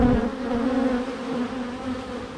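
Agitated honey bees buzz at an open hive, a dense, loud, steady hum near the microphone with no talking.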